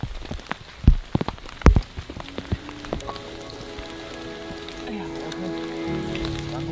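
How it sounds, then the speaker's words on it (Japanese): Heavy rain on a deserted Indonesian island, with a few sharp close knocks and thuds early on, then a steady patter of rain under a faint sustained tone. "雨がどんどん強くなってきました。"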